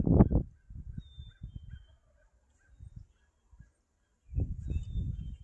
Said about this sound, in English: The crows are getting them to gobble